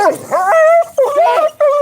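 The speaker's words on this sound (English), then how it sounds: "The barking I can stand right now, but the lunging is not." Dog giving a few loud, close whining yips and barks in quick succession with short gaps between them, no other sounds around.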